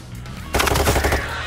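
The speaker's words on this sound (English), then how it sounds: "That was a taser." A taser fires in Payday 3 with an abrupt, loud burst of rapid crackling clicks that starts suddenly after a quieter moment and fades slightly over about a second.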